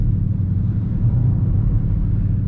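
A Dodge Charger RT drifting through snow, heard from inside the cabin as a steady, loud low engine rumble that stays continuous throughout.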